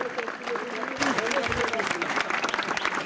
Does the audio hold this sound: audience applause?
yes